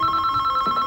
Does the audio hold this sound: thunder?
no